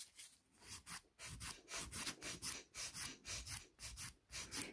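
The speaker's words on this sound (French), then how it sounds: "Et on va limer jusqu'à ce qu'on ne voit plus de démarcation entre l'ongle et la capsule." A nail file works back and forth over a gel nail tip in steady, even rubbing strokes, about three per second, quiet and close.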